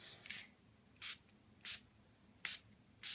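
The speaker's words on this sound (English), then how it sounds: "I want to use just a couple more sprays just to remind it what it's doing." A hand spray bottle mists water onto Brusho watercolour powder in a stamping craft session, producing five short, crisp spritzes at uneven intervals close by in a quiet room.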